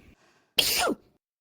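A single sharp, loud sneeze bursts out after a near-silent pause, then fades quickly.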